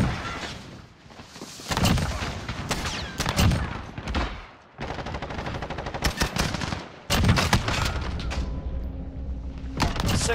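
Rapid automatic gunfire from a Modern Warfare match, loud close bursts and sustained volleys with sharp cracks, brief gaps and heavy booming thuds mixed in, no voices over the shooting.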